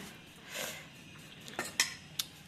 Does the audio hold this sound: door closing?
no